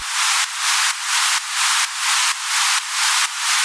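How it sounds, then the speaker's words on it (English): White noise pumped by side-chain compression in an FL Studio EDM track, swelling and ducking in eight steady beats, loud and alone with no voices. "And finally, a side-chained white noise"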